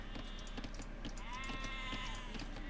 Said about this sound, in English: there's a lot of sheep still over here